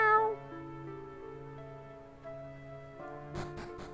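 A cat meows in the Dragon Quest 5 DS video game, a short synthesized cry at the start followed by sustained electronic game tones and a few brief clicks near the end.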